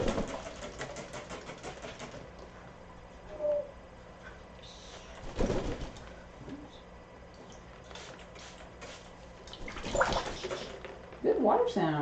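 A pet bird splashing while bathing in water, with soft wet flutters and splashes in short bursts amid quiet stretches, along with a person talking nearby and occasional bird sounds.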